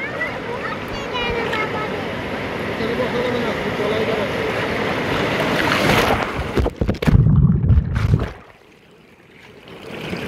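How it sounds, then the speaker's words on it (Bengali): Sea waves break and wash continuously on the beach at Cox's Bazar, a loud steady roar with wind buffeting the microphone. A heavier surge comes near the end before it drops quieter, and voices can be heard faintly. "এই যে আমি এখন সমুদ্র পাড়ে বসে গিয়েছি"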